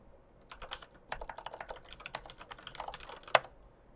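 Rapid clattering keystrokes on a computer keyboard as a git command is typed, steady and close with one sharper key strike near the end.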